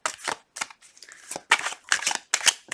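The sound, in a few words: shuffling tarot cards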